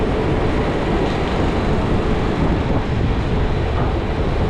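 Loud, steady rumbling roar of a train going by close on Dr. Lourenço Pereira Marques Street in Macau, with broad low-frequency noise and wind buffeting that holds constant throughout.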